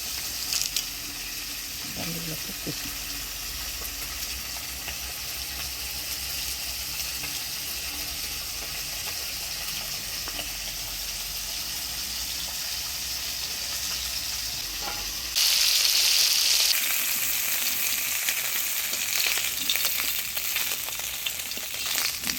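Bheda fish frying in a pan in a Bengali village kitchen, a long even hiss of hot oil with a brief clatter early on and a brighter, louder sizzle surge near the end.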